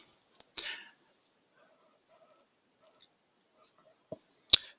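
A computer mouse clicks during a software reporting demonstration, giving a few sharp, isolated, fairly quiet taps separated by near silence.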